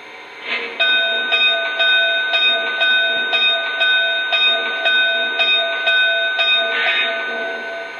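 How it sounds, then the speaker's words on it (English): Bell of a Lionel 2-10-4 Texas model steam locomotive rings steadily and close, a bright metallic clang repeating about every half second with long ringing overtones for roughly seven seconds. "And here's the bell."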